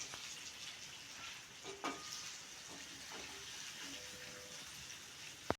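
Fish frying in oil in a pan gives a faint, steady sizzle and hiss, with a few soft clicks and stirring knocks and no talking.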